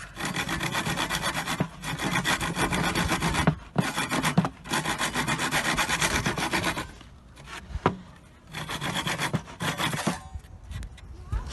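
A Parkside Japanese saw with coarse teeth cuts through wood in rhythmic, rasping close strokes. Several long bursts are separated by brief pauses, and the strokes grow sparser near the end.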